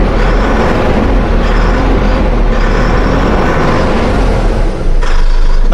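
Diesel engine of a Tata LPO tourist bus with a 5400 mm chassis and Ojes body, running loud and steady up close and swelling slightly toward the end, with no talking.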